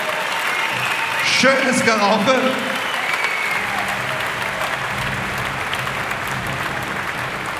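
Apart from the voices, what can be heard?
audience applause after an MMA fight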